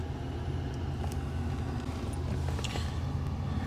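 A 1981 Cadillac Fleetwood Brougham d'Elegance driving, its steady low engine and road rumble heard from inside the cabin, continuous and fairly loud with no talking.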